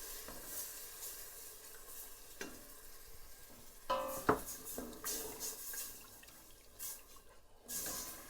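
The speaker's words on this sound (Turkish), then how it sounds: "su ekleyelim. İyice karıştıralım karıştıralım." A spoon stirs milky chicken soup in a pot just after water goes in, giving a quiet, continuous swishing and soft liquid sloshing with a gentle sizzle and a few louder scrapes.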